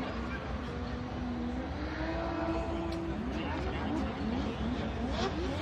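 A Nissan Silvia S15 drift car revs its engine while warming up in a burnout box at a Formula Drift event, the rising and falling engine note heard at a distance under continuous commentary and crowd noise.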